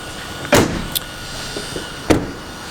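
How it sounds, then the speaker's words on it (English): The two heavy rear doors of a Ford Transit Custom van slam shut in turn, loud and close, with a small click between them. "let's just shut the rear doors here."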